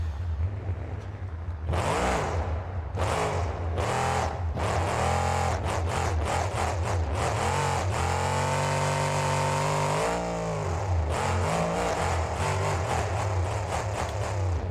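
A monster truck engine roars in the BeamNG video game at a Monster Jam stadium event in Anaheim, loud repeated revs climbing and dropping in pitch with sharp throttle blips, close and continuous.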